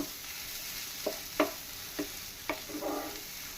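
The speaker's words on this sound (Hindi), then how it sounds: "3-4 मिनट तक ऐसे ही भूनना है" Frozen unboiled peas fry gently over a low flame for a matar kachori stuffing, with a soft steady sizzle broken by several sharp scraping stirs of a spoon against the pan, close and unvoiced.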